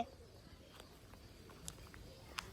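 Pigeons coo softly from a pigeon house on a rooftop, with faint intermittent calls and a few brief chirps over a quiet outdoor background.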